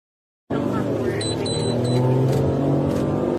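A car speeds down a highway at about 156 mph with no lights on a foggy New Year's Eve night, its engine roar and road noise steady and loud after a brief silence, with faint high whines above.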